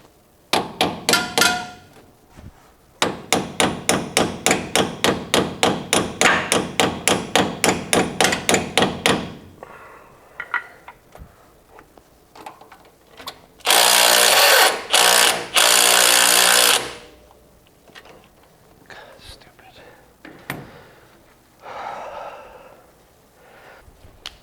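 A bolt is hammered out in loud metallic strikes: a short burst, then a long rapid run of evenly spaced blows, followed after a pause by a harsher, louder stretch of sustained impact noise, with a few scattered knocks afterward.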